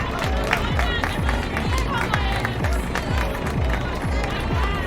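A church congregation claps together in a dense, steady rhythm of repeated hand claps, with voices and cheering mixed into the loud crowd sound throughout.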